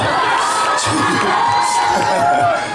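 A large crowd of fans at a concert in Ulsan cheers and shouts loudly and without a break, with high-pitched screams and whoops that sound like children and young fans mixed into the steady roar.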